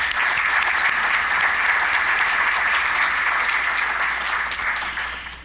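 Conference audience at an energy and environment event claps in sustained, fairly loud applause, a dense uniform patter that fades out in the final half second.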